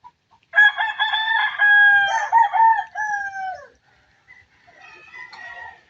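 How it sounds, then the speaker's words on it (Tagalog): A rooster crows loudly and close on a poultry farm, a long drawn-out call, followed by quieter clucking and chicken calls. "Daming manok."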